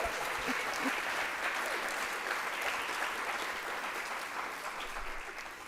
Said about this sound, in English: Can we give them some cheer and love as well?